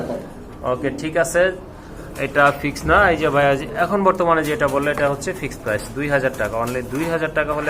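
Pigeons offered for sale as a breeding pair make soft, repeated cooing calls close by, mixed in with steady talking from people nearby.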